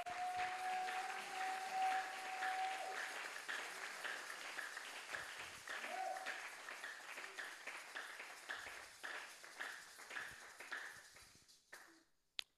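A church congregation bursts into applause and cheers for the Holy Spirit, a steady bed of clapping from many hands that gradually thins and fades toward the end, with a brief tone ringing early on.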